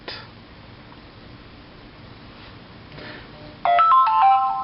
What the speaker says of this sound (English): And my phone's making noises